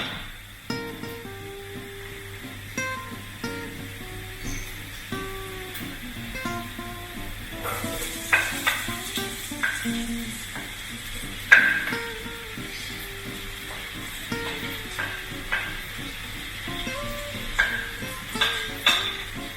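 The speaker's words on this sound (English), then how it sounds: "Saute them for a minute or so, and after this we will add the potatoes." Onions sauté in a pan for corned beef masala, a soft continuous sizzle beneath a long run of rhythmic spatula scrapes and taps, close and steady throughout.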